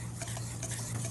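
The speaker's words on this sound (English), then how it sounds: "Mix all that up." A bourbon salmon glaze with paprika is stirred together in a bowl, a brief stretch of soft scraping and swishing with no voices.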